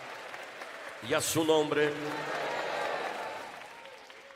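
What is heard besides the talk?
congregation applauding in church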